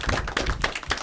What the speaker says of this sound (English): Let's give you all a nice big round of applause.